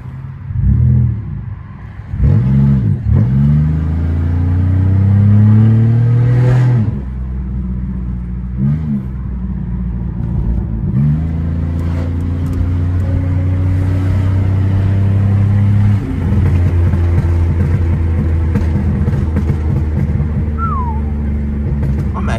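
Pontiac Grand Prix GT engine revving hard and accelerating through repeated gear changes, loud and close from inside the car, with rising and falling engine tones over a steady road rumble.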